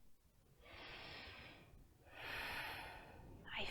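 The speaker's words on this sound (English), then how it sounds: "I feel my belly moving as I'm breathing nice and slow." A child's slow, deep breathing during a mindfulness exercise, heard as two long, soft breaths followed by the start of a third, close and alone.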